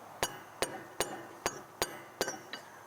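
Six sharp metallic taps on a rusted lawnmower rear wheel, struck at a steady, roughly even pace, each a bright ringing clink close by, alone without talk.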